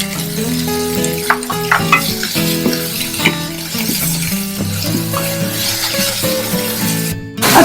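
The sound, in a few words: onions frying in a pan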